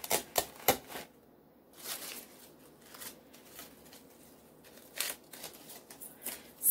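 Scissors trim artificial flower stems, giving sharp, separate snips and clicks in irregular bursts, close and quiet against near silence, with soft rustling between cuts.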